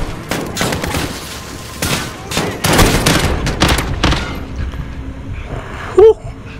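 Bursts of gunfire from a Call of Duty: Modern Warfare campaign mission, rapid overlapping shots in clustered volleys with gaps between, loud and close, ending in a short electronic tone.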